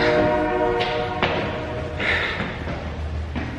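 A train horn blows near Oakland International, a sustained harmonic blast in the opening second followed by fainter thumps and rumbling.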